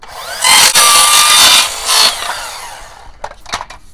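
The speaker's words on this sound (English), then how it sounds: "I'm going to cut a piece of masonite and place it in there as a barrier between the two." A power saw cuts through a piece of masonite, a loud, close, buzzing rasp lasting about two seconds, followed by softer scraping and clattering as the piece comes free.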